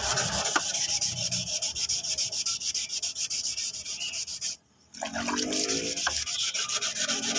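Steady wet rubbing of a car body panel being sanded with water and soap before spray painting, a continuous close scraping with a brief break midway.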